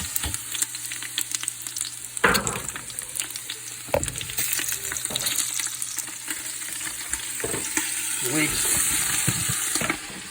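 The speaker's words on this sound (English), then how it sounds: "Garlic's brown, put the tomatoes in." Tomatoes frying in a pot with browned garlic and leeks, a steady close sizzle with stirring clatters and a brief splash of liquid near the end.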